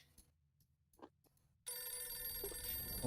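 In the game Dracula 4, a telephone bell starts ringing loud and close after a quiet stretch with a few soft clicks, its bright metallic trill sustained to the end.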